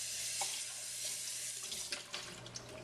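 Water runs from a tap into a pot being rinsed out in a sink after making henna paste, a steady close splashing stream with small clinks and knocks toward the end.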